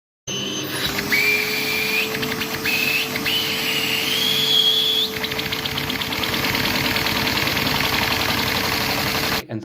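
A small Lego engine driven by a vacuum cleaner runs steadily with a constant mechanical hum and a whistling tone, with faint rhythmic ticking and a slight shift in pitch partway through.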